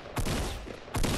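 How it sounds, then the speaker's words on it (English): Gunfire in Fortnite Battle Royale: two broad, loud bursts of shots about a second apart, each sustained and noisy, with no talk over them. "I hear gunshots"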